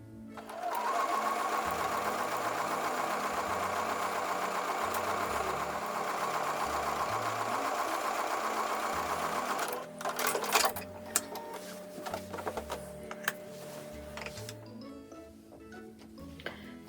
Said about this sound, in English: I'm going to take that back over to the sewing machine and sew the last seam a 1/4 inch away along the pinned edge